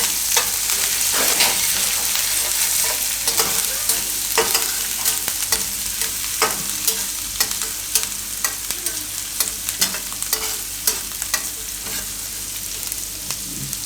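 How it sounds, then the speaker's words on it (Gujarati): Turmeric roasts in hot oil for a paneer broccoli dish, a steady close sizzle punctuated by frequent sharp scraping clicks of stirring throughout. "આને શેકી લે હું થોડીક વાર તેલમાં હળદર"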